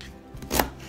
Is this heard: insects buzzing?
no